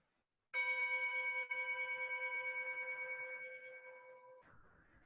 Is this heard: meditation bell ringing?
yes